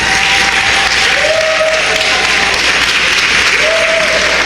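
Steady, dense audience applause fills a convention hall at a national reparations gathering in Washington, DC, loud and continuous throughout, with faint cheering tones rising briefly over the clapping.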